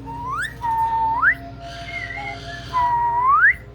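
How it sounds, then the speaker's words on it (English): A pet bird whistles clear rising and sliding notes in several phrases, close and loud over a quiet room with a faint low hum underneath. "I hear Spiky Bird over there whistling."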